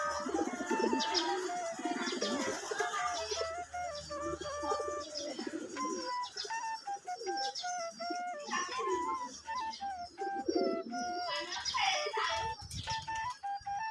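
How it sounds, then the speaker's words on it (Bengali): Pigeons coo repeatedly in low, throaty calls, several birds overlapping at close range, with occasional chirps and rustling. "এটা হলো মর্দের বড় কবুতরটা অনেক বড় সরো দেখেন একাই এই পানি নিটা দখল করেছে"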